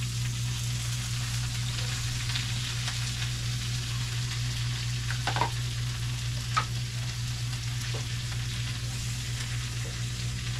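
Cabbage frying in a pan gives a steady, even sizzle over a low hum, with a few brief clicks of stirring and no talk.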